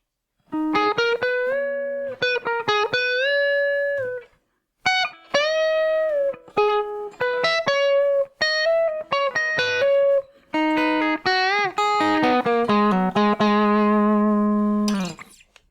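Electric guitar plays a quick riff from a song, bright, sustained notes and bends in several phrases with short pauses, loud and close, with no voices.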